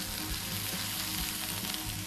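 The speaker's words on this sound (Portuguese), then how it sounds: "vai puxando aqui e vai caramelizando tudo junto. Olha só a cor que fica esse lombo" Pork loin caramelizes in a very hot pan with a continuous dense sizzle and crackle, close and steady, with faint stirring and no talk.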